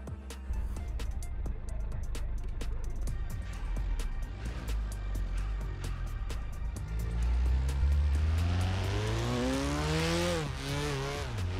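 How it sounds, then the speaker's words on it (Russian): A Mazda fitted with a turbo kit does a burnout in the Drift21 video game, its engine droning and revving as the tires squeal in rising, wavering tones. Occasional sharp clicks cut through, and the squeal grows louder toward the end. "Бернаут можем делать"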